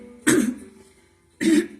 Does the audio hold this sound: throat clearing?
yes